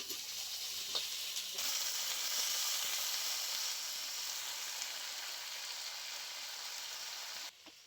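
Vegetables hit hot spiced oil for a Bengali sour fish and mixed-vegetable dish, sending up a loud, steady sizzle and hiss of frying that holds for several seconds before cutting off near the end.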